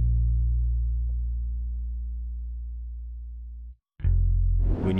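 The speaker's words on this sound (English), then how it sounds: "I just added a bass, and it's a one-shot bass from this kit right here" A chrome bass one-shot from the XY Nothing Cactus kit following root notes, a deep sustained synth bass tone that decays slowly, cuts off, then returns as a new low note with a brief noisy crackle.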